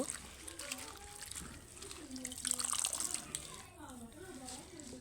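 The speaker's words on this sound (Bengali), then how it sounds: "এবার আমি পেঁয়াজ পাতাগুলো ধুয়ে নিচ্ছি" Spring onion leaves are washed in water, giving faint sloshing and light splashing up close, partly under soft talk.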